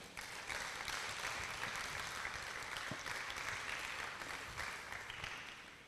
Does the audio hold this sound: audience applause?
yes